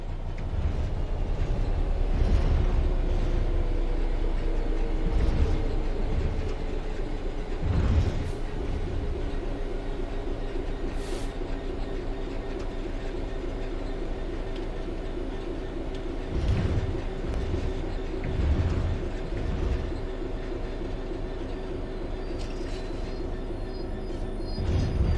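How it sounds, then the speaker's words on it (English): A simulated train in Train Sim World 3 coasts on level track, giving a continuous low rolling rumble with steady humming tones and periodic wheel thumps and clacks over rail joints, heard from inside the cab. "The train will then coast on level ground, and the train will only slow down very gradually."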